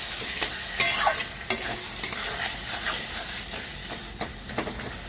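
A masala of chili powder, ginger paste, salt and turmeric is stir-fried for a spicy crab curry, with a steady sizzle and repeated scraping strokes of a spatula against the pan.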